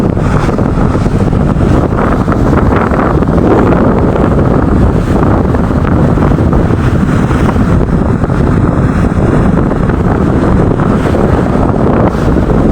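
A boat ride through the waters inside Britannia Island, with strong wind buffeting the microphone in a loud, constant roar that drowns out any engine or waves for the whole stretch.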